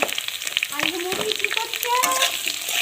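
Fish frying in oil in a pan for a mustard-paste fish curry, loud close sizzling and spattering with irregular crackles and bursts, no one speaking.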